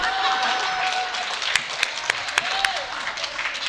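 An audience claps in a steady, moderate patter that runs through the whole stretch. A few sharp, louder claps stand out in the middle, and a faint tone weaves underneath.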